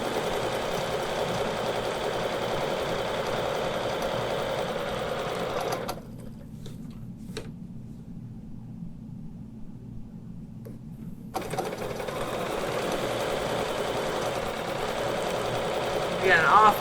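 A sewing machine stitches a quilt with Westalee rulerwork in steady, close, rapid mechanical runs, stopping for a few seconds of near silence partway through before resuming.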